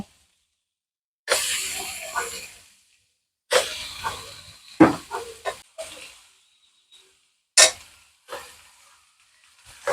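Pieces of mutton for rogan josh drop into a pan of fried onions, producing several sharp hissing sizzle bursts separated by quiet gaps, with a few utensil clinks and no speech.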